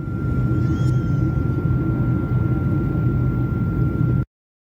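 Cabin noise aboard an airplane in flight: a loud, steady broadband roar with a constant thin whine, unbroken until it cuts off abruptly near the end.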